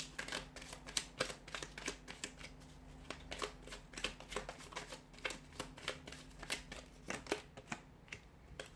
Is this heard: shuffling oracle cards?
yes